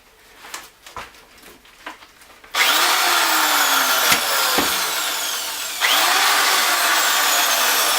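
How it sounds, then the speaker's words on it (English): A power drill whirs loudly in sustained bursts, its pitch sweeping as it drives screws into wooden blocks, preceded by a few quiet knocks and taps. "use the drill"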